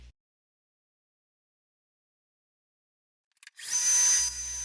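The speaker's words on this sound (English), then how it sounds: "now I'm drilling the hole for the tank to go in." Silence, then an electric drill suddenly starts up and whirs steadily at close range, drilling a hole through a sword blade's tang, its motor note dropping slightly near the end.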